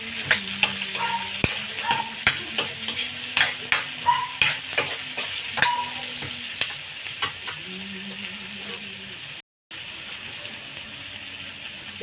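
Chayote and carrots fry in a pan with a constant sizzle while a utensil scrapes and clinks in repeated stirring strokes, close and fairly loud, broken by a moment of silence near the end.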